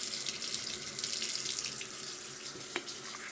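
Warm water runs steadily from a bathroom tap into a sink, a close, continuous hissing splash with no talk over it.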